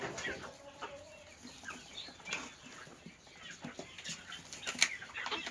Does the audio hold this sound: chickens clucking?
yes